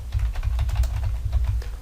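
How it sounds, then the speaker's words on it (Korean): Keys are typed on a computer keyboard to enter a font name in Excel, a rapid and steady close patter of keystrokes with no talking. "맑은 고딕 입력하신 다음에 키보드 엔터키 눌러서 지정하십니다"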